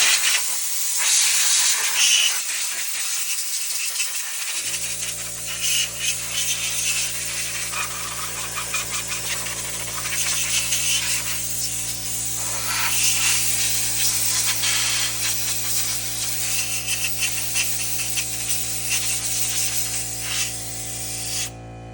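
Compressed air blasts out Prius brake parts in a loud, broad hiss. A steady hum from a running compressor or motor joins partway through and continues under the spray.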